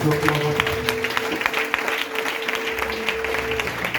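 Church congregation applauding and cheering during a sermon, steady dense clapping throughout with a sustained voice or tone running underneath.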